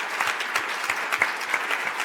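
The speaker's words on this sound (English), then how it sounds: "Maybe we could have a round of applause for" Sustained applause from an audience at the opening ceremony of a human rights conference in Brussels, steady dense clapping filling the room for the whole stretch with no voices over it.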